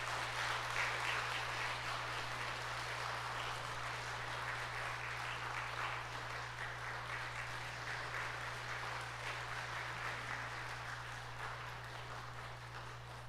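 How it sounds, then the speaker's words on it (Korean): A church congregation applauds during a Sunday morning service, a steady, even wash of clapping from many hands that goes on for over ten seconds at moderate distance, under a constant low hum. "여러분 큰 박수로 축하해 주시기를 바랍니다"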